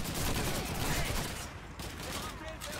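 Dense, continuous Call of Duty 2 gunfire fills the whole moment, loud and close, with overlapping shots blending into a steady roar while a voice talks underneath.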